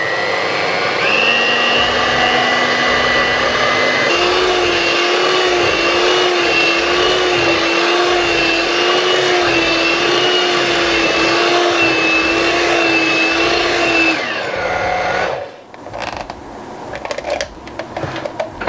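Electric mixer whipping double cream with sugar for a birthday cake, a loud steady motor whine that holds for about fourteen seconds, shifts pitch slightly, then cuts off, leaving scattered clattering.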